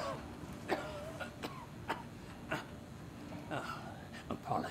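A non-player character in the Star Citizen video game, in Lorville on Hurston, gives a series of rough, repeated coughs and throat-clearing sounds at close range, with muffled voice-like sounds between them.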